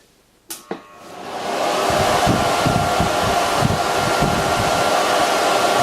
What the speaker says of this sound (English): the blower is set up at 7 feet distance